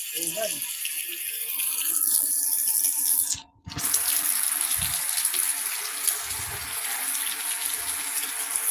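Steady broadband rush of running water, like a tap or spout gushing, on a rainy day in Bayog, Zamboanga del Sur, continuing throughout with a brief cut partway and occasional low thumps.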